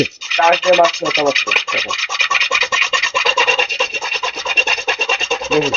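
A plate from a dinner set is rubbed hard to test it for scratches, producing a close, loud, rapid back-and-forth scraping that repeats in a brisk, even rhythm.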